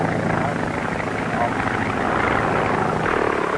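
A 1930s circular-wing flying umbrella aircraft drones along steadily with engine and propeller noise, loud and continuous, under old newsreel-style narration.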